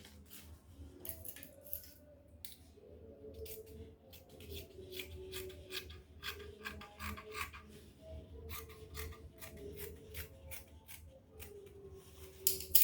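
Scissors snipping through ankara fabric while cutting out a draped, ruched skirt piece, a steady run of crisp close blade closes repeated at an even rhythm over a low room hum.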